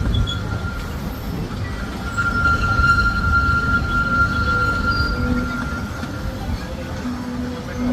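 The Disneyland Railroad train rolls steadily along the track with a loud low rumble and thin metallic squeals from the wheels.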